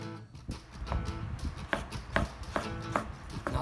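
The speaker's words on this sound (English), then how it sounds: "You don't need to chop all of it." A knife chops through an onion on a cutting board, giving a series of sharp, close, irregular knocks over about four seconds, fairly quiet overall with no talking.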